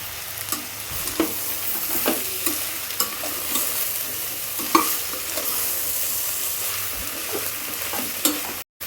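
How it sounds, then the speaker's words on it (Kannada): Vegetables and cut potatoes fry and get stirred in a pan, a steady loud sizzle with repeated scraping strokes of the spoon roughly every second, close and without talk. "ಇವಾಗ ಇದನ್ನೆಲ್ಲ ಹಾಕ್ಕೊಂಡು ಫ್ರೈ ಮಾಡ್ಕೊಳ್ಳೋಣ."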